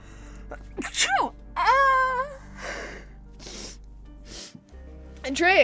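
A single sharp sneeze erupts near the start, followed by gasping breaths and snorting sounds, close to the microphone during a livestream.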